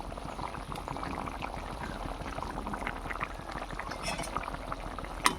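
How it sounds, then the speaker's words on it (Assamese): Potatoes simmer in a small amount of water in a pan for an egg curry, giving a soft, continuous bubbling that stays quiet and even, with one faint clink near the end. "মই অলপ পানী দি পেলাই আলুখিনি অলপ উতলাই লৈছোঁ"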